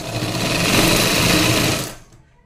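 A sewing machine runs in one fast, even burst for about two seconds while stitching a padded blouse, a close, loud mechanical whir that then cuts off.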